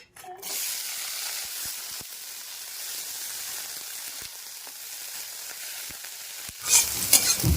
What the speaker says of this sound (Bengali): কড়াইতে তেল রয়েছে ওই তেলের মধ্যে ডুমুরগুলিকেও ভেজে নেব